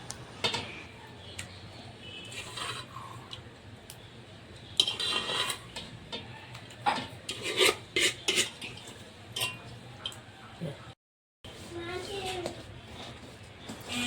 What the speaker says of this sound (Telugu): వీటన్నిటిని బాగా కలుపుకోవాలి